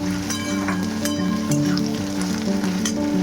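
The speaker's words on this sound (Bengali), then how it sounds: "পেঁয়াজটা তো একটু হয়ে গেলেই ভাজা হয়ে যাবে" Steady sizzle of onions frying in a hot pan for chicken dum biryani, continuous crackle with occasional sharper pops, close by, with a faint tonal hum running underneath.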